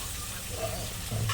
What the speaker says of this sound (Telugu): ఆయిల్ అయితే వేడెక్కేసింది ఉల్లిపాయలు అయితే వేసేస్తున్నాను